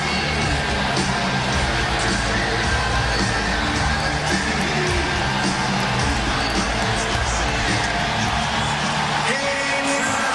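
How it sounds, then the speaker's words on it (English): Hockey arena crowd waiting for the opening face-off of a 2012 Stanley Cup playoff game between the Flyers and Penguins, a dense continuous roar of voices with scattered whoops and shouts, loud and steady throughout. "we'll listen to the crowd just to see if there's a build-up here before the opening draw"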